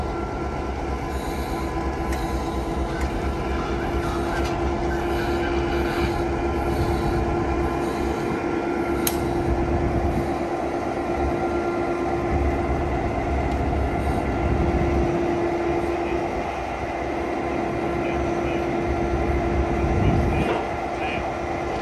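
A locomotive on a railroad turntable, balanced over a 6-foot bearing, turns slowly, with a steady mechanical drone, a sustained squealing tone, and occasional clanks and creaks throughout.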